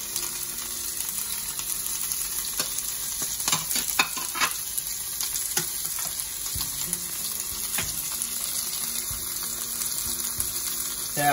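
Chili sizzles and fries in a hot pan for chilli prawn pasta, a constant bright crackle with occasional stirring clatters and scrapes, close and steady with no talking.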